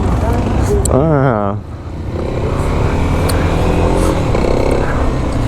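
A Kawasaki KLX 300 SM single-cylinder supermoto on 17-inch wheels ridden on the street: the engine revs with a rising, stepped pitch, then settles into a loud, steady drone mixed with heavy wind rush.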